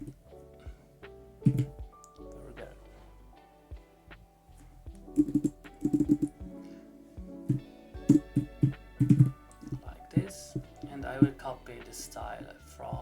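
Keyboard typing of a short word during a Canva motion graphics tutorial, heard as clusters of quick close clicks in bursts over several seconds, with background music throughout.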